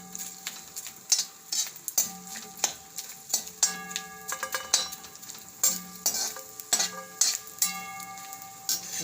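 Edible gum fries for halwasan with a steady sizzle, while a spoon scrapes and clinks against the pan in regular stirring strokes, close and rhythmic.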